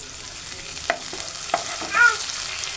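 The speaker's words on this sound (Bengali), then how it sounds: "এখন পেঁয়াজটা আর রসুনটা একটু ভেজে নেব" Onion and garlic paste frying in a pan, stirred with a few distinct scraping strokes over a steady low sizzle, close and fairly quiet with no voices.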